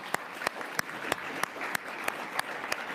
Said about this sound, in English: please join me in giving a round of applause to our esteemed panelists here